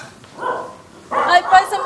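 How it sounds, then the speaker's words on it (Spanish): A dog barks indoors at home, two close, loud bursts of sharp yipping barks, the second longer and more insistent. "Ese perro me tiene mal, pa. Vete, cállalo, yo no aguanto, no."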